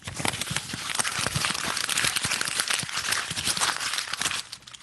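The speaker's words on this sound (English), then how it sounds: "I'm going to try crumpling." Paper or similar material being crumpled for sound art, a dense continuous crackling and crinkling close up, steady for several seconds before trailing off at the end.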